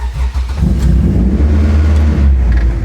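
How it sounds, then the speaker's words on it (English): A car engine cranks and catches, then runs steadily with a loud, low rumble and a slight rev, close by with no talk. "I'm going to start the vehicle"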